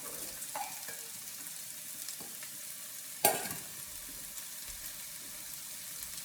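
Onions fry in a pan with cabbage about to go in, giving a low, even sizzle close by and one sharp clatter partway through, with no voices.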